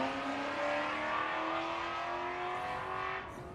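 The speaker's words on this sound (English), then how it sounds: "That Mustang of Phil's always sounds gorgeous." Ford Mustang with a 289 Windsor V8 and dual Holley four-barrel carburetors at a historic motorsport sprint, a loud sustained engine note climbing steadily in pitch as it accelerates, then dropping off at the end.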